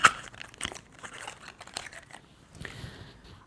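A cosmetics box is opened with crinkling plastic and rustling packaging, in soft, scattered bursts of crackle and tearing that are close by and fairly quiet.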